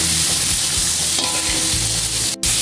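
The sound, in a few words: stirring Baguio beans in a frying pan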